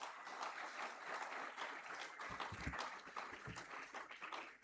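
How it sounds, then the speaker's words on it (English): An audience applauds award winners at a school proficiency award ceremony, with steady, dense clapping running the whole time and a few louder low thumps near the middle. "Big round of applause for all the winners once again."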